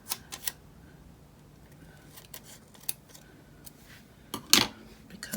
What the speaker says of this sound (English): I think I'm going to cut this flower up.